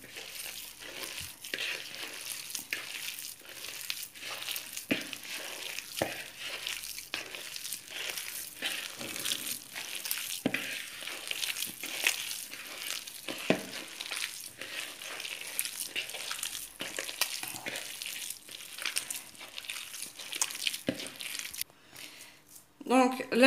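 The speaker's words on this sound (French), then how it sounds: "Je vais commencer à mélanger, bien sûr avec les doigts. Je vais bien mélanger pour que ce soit homogène." Mashed potato and minced meat are kneaded by hand into a croquette mixture, making continuous soft squishing and crinkling sounds up close, with brief speech at times.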